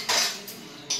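Steel dishes and utensils being handled after scrubbing at home, two quick bright metallic clatters close by.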